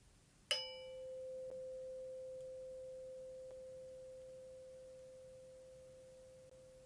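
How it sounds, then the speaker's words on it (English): A meditation bell struck once, ringing out with a bright clear attack and then a long pure tone that fades slowly across several seconds in a quiet room, with nothing else heard. "Allow yourself to listen to the bell from beginning to end"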